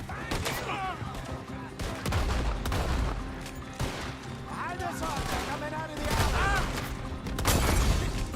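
Shotgun blasts and other gunfire in Red Dead Redemption 2 erupt in repeated loud bursts amid a busy firefight, with voices talking over the shooting throughout.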